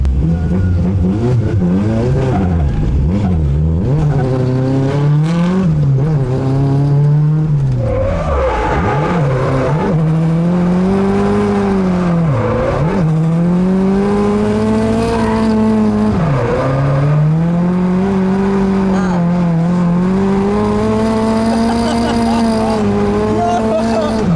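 A Nissan Cefiro drift car revs hard through repeated rising and falling sweeps, with tire squeal mixed into the loud, continuous engine wail from inside the cabin.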